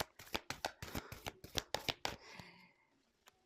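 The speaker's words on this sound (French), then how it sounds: "j'ai battu les cartes" Playing cards shuffled by hand in a quick riffle of crisp, close flutters and snaps, ending in a softer settling rustle.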